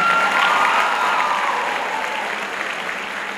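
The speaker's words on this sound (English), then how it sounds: "one more round of applause, please" Audience applause at a high school pops concert, a dense wash of clapping from a large crowd that stays steady and fades slightly toward the end.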